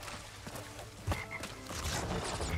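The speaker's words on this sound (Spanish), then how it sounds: "¡Me ha convertido en rana!" Frog croaks ring out in Crash Bandicoot 3: Warped as a character is turned into a frog, set against busy game music and effects, with a loud croak near the middle and more croaking toward the end.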